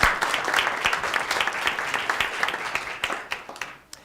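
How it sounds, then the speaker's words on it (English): An audience at an opera event breaks into steady applause, dense clapping that holds for a few seconds and then thins out toward the end. "Give them a big round of applause,"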